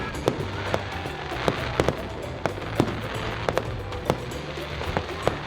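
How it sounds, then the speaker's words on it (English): Fireworks bursting over the Mall of Asia seaside, repeated sharp cracks and pops at irregular intervals against a constant crowd and outdoor rumble, moderately distant. "the fireworks are pretty short"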